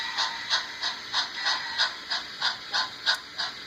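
A scratch-built turnout on an On30 model railway layout is switched, producing a rapid series of about ten small, evenly spaced mechanical clicks, close and fairly quiet, with no talking.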